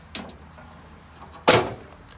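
The door of a 2021 Forest River Rockwood Signature 8298KS fifth-wheel RV, fitted with a friction hinge, closes with a soft click and then one loud, close slam with a short rattling decay.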